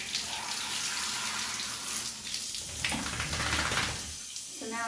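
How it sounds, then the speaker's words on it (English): Running water rinses shampoo from a Chinese Crested dog, a steady close splashing hiss that continues throughout with small shifts as the spray moves. "I am gonna rinse everything off"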